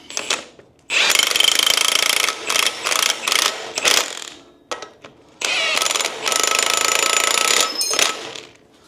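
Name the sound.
impact wrench running up lug nuts on front end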